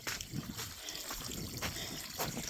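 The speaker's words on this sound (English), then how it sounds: "Teeny, tiny waterfall." Teeny, tiny waterfall trickling over rocks, a faint, continuous splashing and dribbling of water heard up close with no voices.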